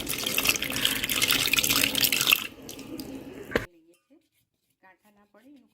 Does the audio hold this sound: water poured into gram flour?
yes